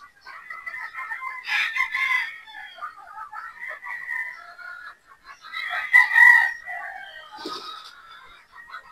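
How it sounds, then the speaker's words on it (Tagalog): Boston Roundhead pullets and other chickens on a game farm, several birds clucking and crowing in uneven bursts, close and fairly loud against a quiet background. "Yan po yung ating mga Boston Roundhead pulit"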